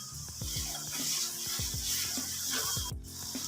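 Spice masala with turmeric powder and added water frying in a pan for aloo palak, a steady close sizzle with scattered stirring clinks and scrapes throughout.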